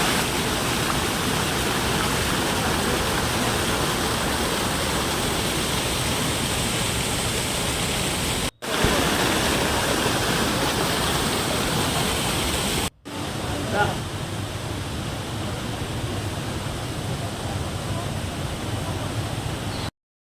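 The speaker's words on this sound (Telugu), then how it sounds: "నేనైతే ఆ వాటర్ సౌండ్ ఎక్కడి నుంచి వస్తుందో నేను అటు ఇటు చూస్తూ ఉన్నాను" Constant roar of rushing water from a waterfall at Tirumala, loud and steady with two abrupt cuts.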